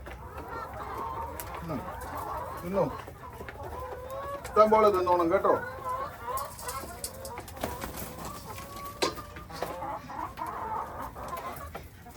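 Hens cluck and squawk throughout, with a burst of louder, busier clucking in the middle, while a person talks over a flock of about 40 chickens.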